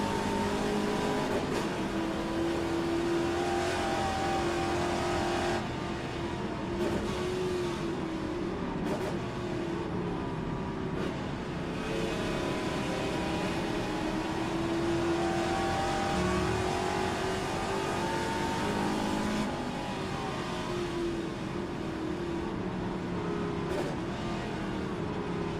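Classic Trans-Am race cars accelerate hard at the start of a sprint race at Bathurst, a loud, continuous roar of V8 engines revving and shifting, with cars passing close by and the pitch rising and falling throughout.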